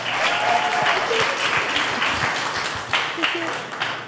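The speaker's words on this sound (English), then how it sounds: "Jess, can we give her another round of applause?" An audience at a meditation panel claps in a dense, lively burst of applause that continues steadily throughout, with voices mixed into the sound of the room.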